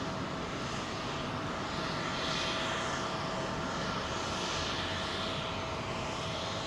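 A Qatar Airways airliner touching down at Heathrow gives a continuous, fairly distant jet roar with a steady tonal whine, even in loudness throughout and with no voices.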